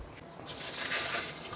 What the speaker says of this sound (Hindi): तो ये इसके अंदर पानी भी ऐड कर दिया।